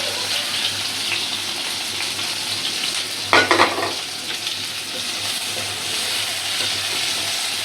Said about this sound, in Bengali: গরম হয়ে গেছে কাঁচামরিচ পেঁয়াজ দিয়ে দিই